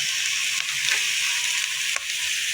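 Dried tuyo fish sizzling in a hot pan, a steady close crackling hiss with a couple of faint stirring knocks, no voices over it.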